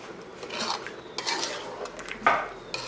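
A spoon stirs tomato sauce in a cooking pot, giving soft scraping and light metallic clinks against the pot at close range, quiet and irregular.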